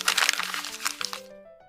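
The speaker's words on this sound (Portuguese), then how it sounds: "um papel sendo amassado" Paper crumpled as a theatre sound effect, a close burst of crackling and crinkling for about a second that fades out under a sustained musical tone.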